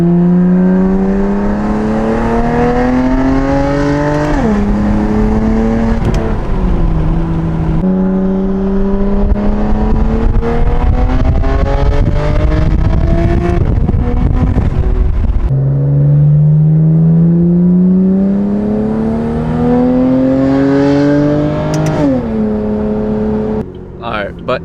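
A BMW F80 M3 fitted with prototype equal length midpipes accelerates through repeated gear pulls, its loud raspy exhaust note rising in pitch, dropping at each shift, then climbing again, close and dominant throughout.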